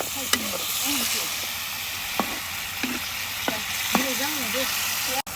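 Small new red potatoes fry in a spiced masala in a pan, giving a steady close sizzle broken by sharp scraping clicks as they are stirred, with a faint voice underneath.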